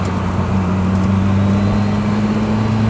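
A 1993 Ford Escort RS Cosworth rally car drives smoothly through a corner, its engine a steady, even drone with road and cabin noise underneath, heard from inside the car at constant level.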